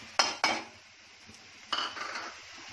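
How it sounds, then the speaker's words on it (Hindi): Chopped green chillies are tipped into a pan of fried onions for mirchi thecha, giving a couple of sharp metallic clatters followed by a short burst of stirring and scraping close by. "इसमें जाएगी अपनी काटी हुई बहुत सारी मिर्ची"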